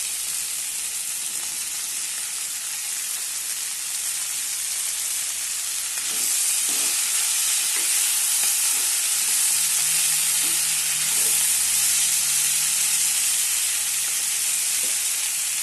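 Tomatoes dropped into a pan of frying cauliflower, potato and capsicum, giving a steady loud sizzle and hiss that rises when they go in, with faint stirring clinks, no voices.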